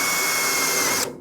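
A power drill driving screws into a 1968 VW custom car, whirring steadily at close range for about a second, then cutting off abruptly.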